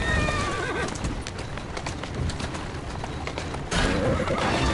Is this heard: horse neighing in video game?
yes